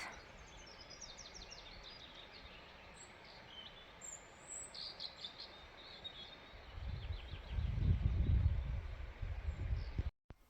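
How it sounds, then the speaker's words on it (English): Faint birdsong chirps and trills drift through a quiet foggy forest, with a low rumbling swell of noise rising near the end. "You can even hear the birds inside."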